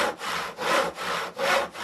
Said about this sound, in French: Il en scie un morceau, puis un autre